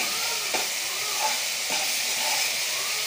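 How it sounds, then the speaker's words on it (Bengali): Spice paste frying and sizzling in a pan while being cooked down for a fish curry, a steady close hiss with occasional stirring scrapes, no talking. "মাছ রান্না করার লেগে আমি মশলাটা কষা নিতে আসছি।"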